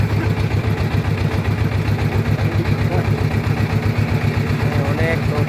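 Boats and trawlers chugging along a river in Sylhet toward Bholaganj, a steady low, rhythmic engine throb that runs continuously and fairly loud throughout, with faint voices mixed in.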